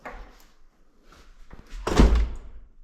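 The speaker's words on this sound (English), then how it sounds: "Shut the door" A house door swings shut with a loud, close thud near the end, after a stretch of quiet room noise and faint handling sounds.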